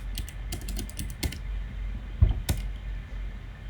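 Computer keyboard keys clatter in quick bursts of typing, then a single firmer press of the enter key, close and fairly quiet over a low steady room hum, no voices.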